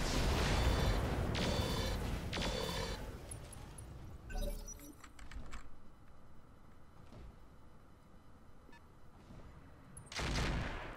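Mech weapons fire in Roguetech, a BattleTech-based game. A loud opening volley of booming, crackling shots fades into softer, scattered impacts, then another burst lands near the end.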